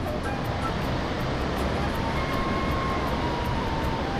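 River water rushes beneath the bridge at Mugling, a broad, steady roar that fills the scene evenly, with a faint distant drone riding above it and no one speaking.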